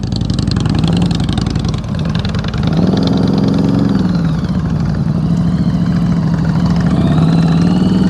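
A motorcycle ridden at slow speed through tight practice turns gives a close, steady engine drone with a few gentle rises in revs where the throttle opens, and no voices over it.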